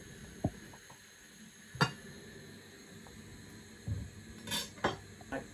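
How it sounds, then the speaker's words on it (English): A knife works through a marrow on a board with a few sparse, close taps and clunks. There are short scrapes and contacts with quiet gaps between them. "slice right down the centre of the marrow here"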